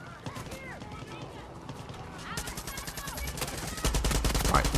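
Light machine gun fire in the Far Cry 6 video game rattles in rapid bursts that grow louder and denser toward the end, mixed with other game sounds.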